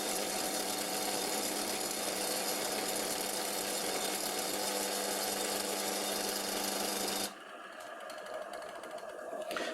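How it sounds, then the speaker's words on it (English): An antique Karger metal lathe taking a cut with slight chatter, its motor making the machine shake, a steady buzzing whine that holds for about seven seconds before the cut ends and a quieter running hum remains. "There's a little bit of chatter. And also the lathe is a bit shaking because of the motor."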